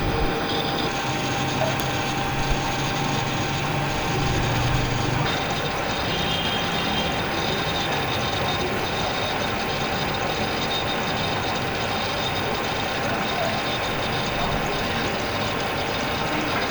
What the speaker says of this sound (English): this is on the lathe machine he is turning. Just simple turning